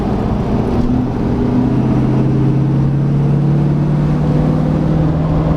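A 2020 Ford F350 Powerstroke diesel pickup tuned to 625 hp accelerates steadily from inside the cab, its deep, loud engine drone climbing gradually in pitch.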